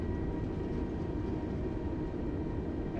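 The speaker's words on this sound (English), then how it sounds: "What I like to do is an inverse thrust" Airliner engines roaring in reverse thrust during landing rollout in Microsoft Flight Simulator 2020, a steady, loud, dense rumble that holds evenly for the whole stretch with no voices over it.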